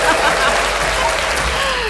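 An audience at a talk by a neurosurgeon claps in a dense, steady burst of applause, close and loud, with a voice faintly audible through it.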